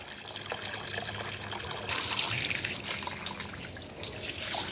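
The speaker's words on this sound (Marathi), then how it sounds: "आता टाईम आहे तर म्हटलं की असं छान सगळीकडे पाणी मारून" Water is sprayed across a garden yard during outdoor cleaning, making a continuous rushing, splashing hiss that grows louder and fuller about two seconds in, then stays steady.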